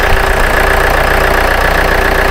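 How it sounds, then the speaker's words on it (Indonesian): Car engine idling close by with a steady, even mechanical hum and rhythmic low pulsing, loud and alone. "Nah, sekarang mesinnya kita nyalain."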